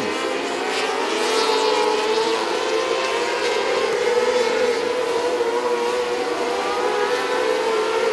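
Dirt track race cars circle the Highbanks track in Pryor, Oklahoma during a night qualifier. A steady, loud, droning roar of several engines holds throughout with no break.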